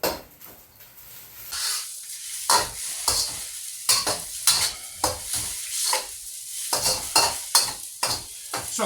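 Soy sauce chow mein noodles with carrots stir-fried in a hot pan, with loud sizzling and hissing broken by repeated scraping and tossing strokes of a utensil against the metal at an uneven rhythm.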